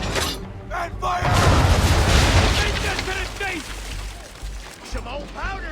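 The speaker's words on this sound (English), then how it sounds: "Now, aim all guns at her bow and do as much damage as possible." Ship guns fire in an Assassin's Creed 3 naval battle. A heavy booming blast swells and rumbles for a couple of seconds, then crackles away as a voice calls out over the fight.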